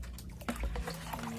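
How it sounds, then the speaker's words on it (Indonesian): Water poured onto a potted mango plant in a plastic pot, a short splashing trickle with a few gurgles, close and moderately loud. "kita lakukan penyiraman"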